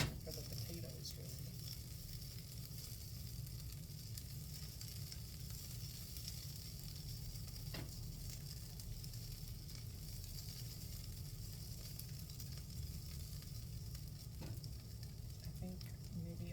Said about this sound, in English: Just waiting on more browning for the potatoes, really.